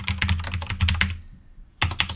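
Fast, close clicking of a computer keyboard while coding in the Neovim editor, two quick bursts of keystrokes split by a short pause.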